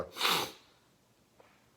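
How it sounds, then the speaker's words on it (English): A single sharp nasal sniff or snort, loud and close, followed by quiet breathing and a faint click. "forgive me for sniffling a little bit."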